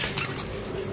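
Pet birds at play in the morning sun give a brief, soft cooing call, close by and fairly quiet.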